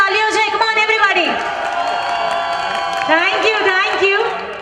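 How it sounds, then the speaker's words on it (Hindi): Guests at a wedding reception clap and cheer for the couple, a burst of applause and whoops mixed with lively chatter and music, fairly loud and close throughout. "फ्रेंड्स वाली ताली हो जाए"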